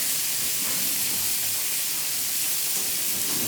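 Chopped garlic hitting a hot pan for white-sauce Alfredo pasta gives a steady, close, even sizzling hiss that runs on without pause and with no voices.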